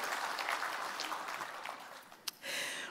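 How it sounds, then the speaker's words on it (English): Church audience applause, a dense patter of many hands clapping at moderate distance that tapers off, then swells briefly again at the end. "Give a round of applause."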